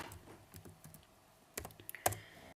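Computer keyboard keys are tapped in short irregular bursts, soft clicks at first, then a few sharper louder strokes near the end, close and quiet, with no voices.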